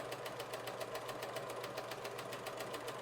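A home sewing machine, not an industrial model, stitches through very thick coat fabric with a steady, rapid mechanical chatter that runs evenly and close by throughout.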